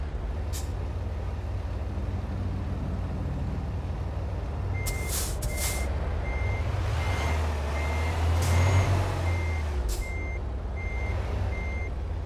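A truck in American Truck Simulator backs up with evenly spaced reversing beeps over a steady low engine rumble, with sharp hisses of the air brakes releasing along the way; no voices.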